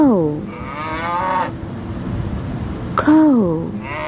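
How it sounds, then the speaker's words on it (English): A cow moos twice, a long drawn-out low call followed by a shorter one after a pause, close and clear with a faint background hiss. "Cow."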